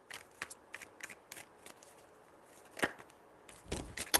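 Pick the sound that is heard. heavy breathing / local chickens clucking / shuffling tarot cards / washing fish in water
shuffling tarot cards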